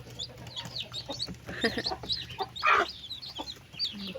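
A mother hen in a coop with her newly hatched chicks, clucking in soft repeated bursts alongside high chick peeps, fairly close with a low background hum.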